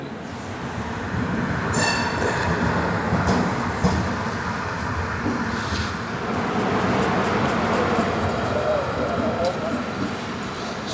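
A moving Indian express train, the Hazur Sahib Nanded–Hadapsar Express on the Daund chord line, gives a steady loud rolling rumble with wheel squeal and rail clatter throughout, heard from onboard.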